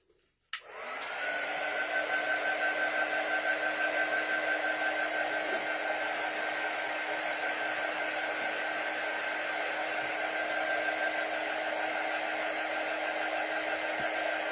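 A heat tool drying paint on a Snoopy house box frame: a click, then a steady, even blowing whir with a faint whine that runs unbroken for about fourteen seconds, alone and close.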